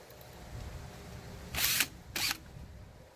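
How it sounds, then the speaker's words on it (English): Two short, loud bursts of a power drill whirring, each lasting about a quarter second, drilling holes for a diving board mount into wood and aluminum, over a quiet room background. "Now I'll drill the rest of the holes."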